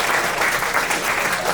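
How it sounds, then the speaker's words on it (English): An audience breaks into loud, dense applause for a volunteer named Becky at a stage magic show, a continuous wash of clapping heard up close with no voices on top. "Everyone, give a nice round of applause to Becky."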